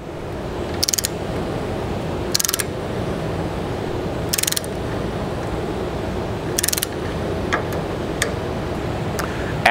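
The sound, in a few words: torque wrench clicking while tightening leveling system fastener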